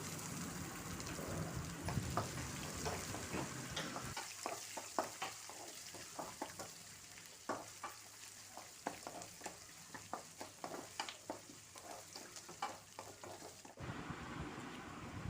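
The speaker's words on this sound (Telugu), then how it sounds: "ఉల్లిపాయలు పచ్చిమిరకాయలు వేసుకొని వేపుకోవాలి" Onions and green chillies fry in a pan with a steady close sizzle, punctuated by repeated sharp scraping taps of stirring at an uneven rhythm.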